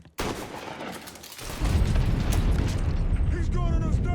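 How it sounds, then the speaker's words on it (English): Gunfire in the video game Mafia 3, a sharp report near the start followed by a sustained loud rumbling barrage of shots and booms, with voices talking over the action. "He's gunning us down."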